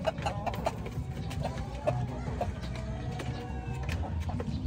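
Clucking from three Rhode Island Red hens and a rooster on a small farm, with steady overlapping calls and bursts of murmuring over a constant low background rumble.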